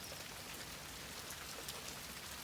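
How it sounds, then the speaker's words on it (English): Steady rain falling harder during a warm stormy day among oak trees, a dense, even hiss of drops on surfaces, constant and fairly faint throughout with no voices. "Oh, it's starting to rain harder."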